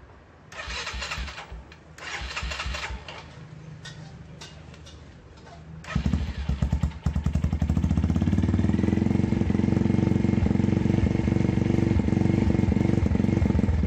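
A vintage-style motorcycle fitted with a vase-shaped D.O.P exhaust pipe: a few ticking cranks and clicks, then the engine starts and settles into a loud, steady, close idle rumble.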